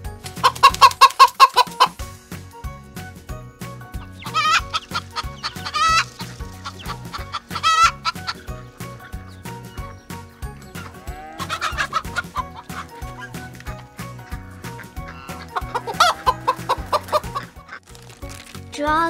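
Chickens cluck in scattered bursts over a steady rhythmic musical beat, with a sharp squawk near the start.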